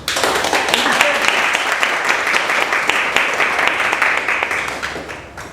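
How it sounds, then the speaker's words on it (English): An audience at a Young Adult Toastmasters evaluation session gives a round of applause for a speaker: sustained, close crowd clapping with crisp overlapping hand strikes that gradually thins and fades toward the end. "I would like to give a round of applause to my speaker"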